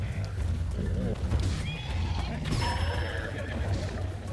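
A horse in the video game The Legend of Zelda: Tears of the Kingdom whinnies loudly amid game sounds and hoof clatter, with a person talking over it.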